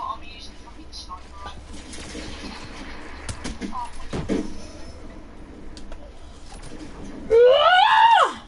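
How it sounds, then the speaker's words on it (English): A person screams loudly in a video game session, a rising, strained cry that bursts out near the end after a stretch of murmured talk and game noise. "I'm gonna scream."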